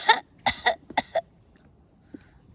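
A voice imitates a flea's coughing in a children's read-aloud story. It gives a short series of dry, close coughs and throat-clearing bursts, spaced unevenly, then fades to a brief faint tail.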